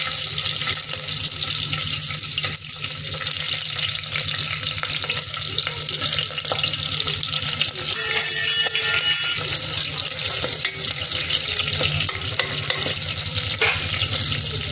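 Bottle gourd pieces frying in hot oil with mustard seeds and green chillies, a steady loud sizzle with scraping stirs throughout, close up and without talk.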